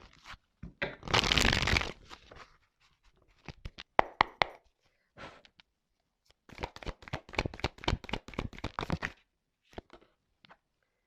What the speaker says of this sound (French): on va prendre encore quelques petites cartes là